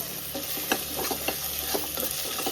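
Crushed ginger and garlic sauté in a pan for quick pressure-cooker chicken, giving a steady close sizzle broken by repeated scraping stirs, with no one talking.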